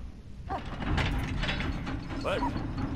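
A lever mechanism in the game Valiant Hearts ratchets and clanks through a few uneven mechanical clicks and grinding turns, set against a low ambient game soundtrack.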